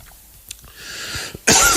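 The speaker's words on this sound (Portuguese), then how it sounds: "Olha agora a tosse." A sharp, loud cough bursts out near the end after a quieter stretch of faint background noise, with a couple of small throat sounds before it.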